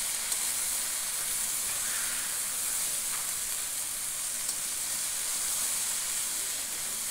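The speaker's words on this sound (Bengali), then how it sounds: "এভাবে নেড়ে নেড়ে ভালো করে আলু ঘাটিটাকে ভেজে নিচ্ছি।" Potato pieces and ghati frying in oil in a pan while being stirred, a steady close sizzle and hiss with occasional soft scrapes, no talking.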